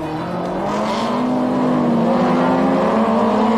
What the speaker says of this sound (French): Méliès, c'est aussi du 50-50, mais avec un léger avantage pour le second qui joue de l'accélérateur pour tester les amortisseurs